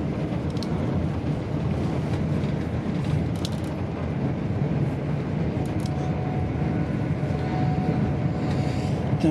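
Interior rumble of a GWR Class 802 train running on rails between Didcot Parkway and Reading, a steady loud low drone with faint rattles and a brief whine throughout.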